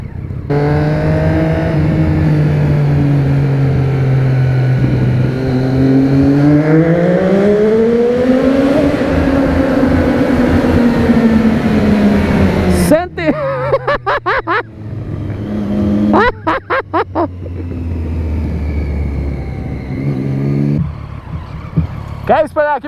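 A loud Honda Hornet motorcycle exhaust revs up and down in long rising and falling sweeps, then sharp throttle blips follow, echoing in a tunnel, with voices underneath.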